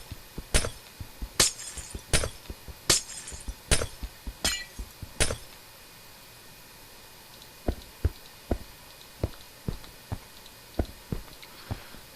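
Minecraft glass blocks break in quick succession, about seven bright shattering clinks in a fast rhythm, followed by softer block-breaking taps continuing at a steady pace.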